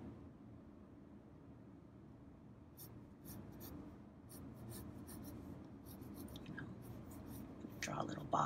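Pencil sketching on paper while working out a male fashion figure's pose and proportions, a faint, steady scratching rubbing that grows busier toward the end, heard close over a low background hum.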